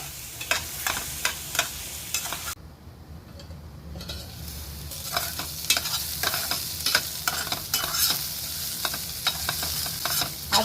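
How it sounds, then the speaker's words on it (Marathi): Onions fry in a pan with repeated close scraping strokes over a constant sizzle, briefly muffled when a lid goes on, then stirred and crackling again. "उघडून बघतोय आणखीन शिजायला हवा ना कांदा हो."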